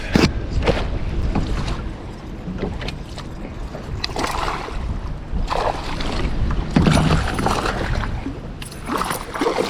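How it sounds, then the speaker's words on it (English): Wind buffets the microphone while water sloshes and slaps against a small fishing kayak, with intermittent splashes and gusts throughout. "I think it's so windy and wavy"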